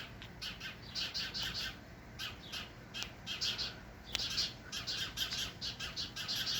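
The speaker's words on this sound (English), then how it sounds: "Can you hear the birds fighting?" Several birds squabble on a fence in the evening, chirping and squawking in rapid, overlapping bursts nearby, a busy, agitated chatter over a quiet outdoor background.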